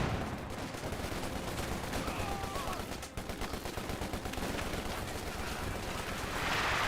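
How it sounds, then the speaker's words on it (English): Artillery smoke barrage in Company of Heroes 2, a dense rolling stream of booms and rapid gunfire-like cracks filling the battlefield, loud and continuous with a brief dip midway. "He does bring in an artillery smoke barrage."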